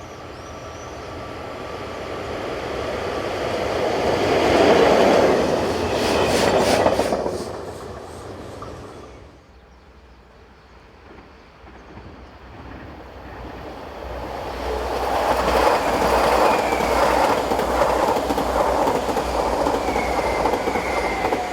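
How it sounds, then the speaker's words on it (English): Freight train hauled by locomotive 11167 on the Zofingen to Rothenburg run, rumbling past loudly with a clickety-clack of wagons, easing off to a quieter lull midway before the roar of passing cars swells again. "This is trip freight number 62336, the 10:01 departure from Zofingen to Rothenburg, powered by 11167."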